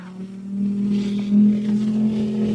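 A mud racing truck drives into the mud pit at a race in Orangeburg, South Carolina, its engine droning loud and steady with a deep tone that surges briefly midway.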